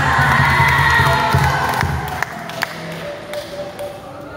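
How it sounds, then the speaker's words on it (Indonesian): A crowd of young people at a church youth sermon-reading contest claps and cheers for a contestant, loud and lively at first with shouts, then tapering off as a few sharp claps and thumps stand out. "Kita berikan tepuk tangan untuk Titan."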